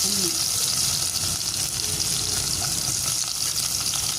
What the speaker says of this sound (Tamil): கடுகு சேர்க்கணும், கொஞ்சமா பொரியட்டும்